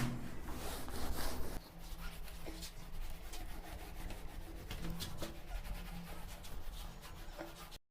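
A board is rubbed clean during a physics class, giving steady broadband scrubbing friction that is close and continuous, louder in the first moments, with no talk.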